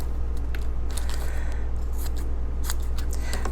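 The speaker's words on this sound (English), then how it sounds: "So I'm going to take my red, cut it up, and cut up some squares." Scissors snipping through red paper to cut squares for a first-grade Mondrian art lesson, a series of quick, close crisp cuts over a steady low background hum.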